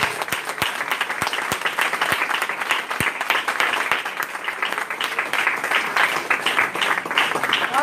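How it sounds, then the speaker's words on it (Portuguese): Loud, sustained applause from a church congregation in São Paulo, dense steady clapping with a few sharper individual claps standing out, lasting several seconds with no talk over it. "Dê uma salva de palmas bem forte"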